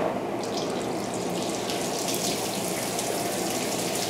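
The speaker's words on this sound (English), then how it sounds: "It turns on the waterfall." Waterfall urinal at a Shell station on Cima Road, California, running steadily with a continuous close rush of water, like a faucet pouring into a basin, with no talking.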